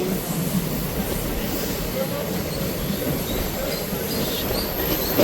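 A MEMU train between Vijayawada and Rajahmundry runs with a steady low rumble and light wheel squeal, the sound continuous and moderately loud from inside the coach, with a voice faintly present at times.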